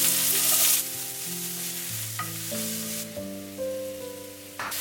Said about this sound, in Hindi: राजमा को मैं घी में तड़का लगा रही हूँ।